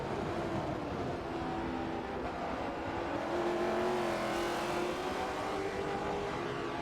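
V8 Supercar race car driving through turn 5 toward turn 6 at Road America, a steady engine drone heard from a distance with a slight rise and fall in pitch.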